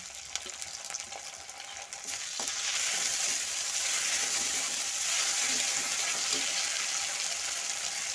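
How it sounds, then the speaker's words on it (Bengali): Chopped onion, ginger paste, cumin and chili paste fry in a pan. A quieter sizzle with some scraping swells into a loud, steady frying hiss that continues to the end. "সাদাটা একটু ভাজা ভাজা হয়ে গেলে বেটে রাখা জিরা আর লঙ্কা দিলাম"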